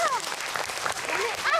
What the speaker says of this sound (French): On peut l'applaudir, mes amis?